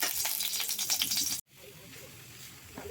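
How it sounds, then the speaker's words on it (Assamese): Semolina frying in hot ghee in a kadai gives a loud, close, steady sizzle for about a second and a half, then cuts off abruptly to a much quieter, softer background hiss. "চুজিখিনি এতিয়া ঘিউত অকণমান দেৰিৰ কাৰণে ভাজি থাকিম ৰঙচুৱা বৰণটো অহালৈ।"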